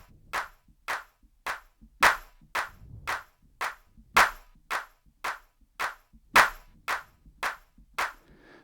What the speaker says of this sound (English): I'm going to clap on my synthesizer here at a steady tempo